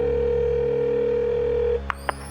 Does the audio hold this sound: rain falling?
no